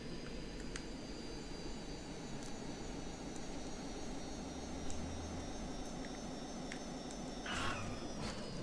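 Jet airplane landing in the game Just Cause 2, a steady roaring engine whine with faint high tones, constant and fairly quiet throughout.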